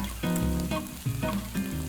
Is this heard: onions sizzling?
yes